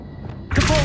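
Accio summoning spell cast in Hogwarts Legacy: a sudden bright magical burst with a ringing tonal shimmer, loud and close, following a quiet low game ambience.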